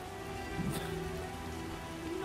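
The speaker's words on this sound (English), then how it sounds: "the NPCs are hiding from the rain" Rain falls steadily in the 2007 video game The Witcher, a soft, constant patter with a faint tonal game background and no talk.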